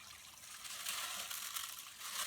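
Water pours steadily through a gold prospecting sluice on the Arkansas River in Oklahoma, a continuous bright rushing and splashing flow with no talk.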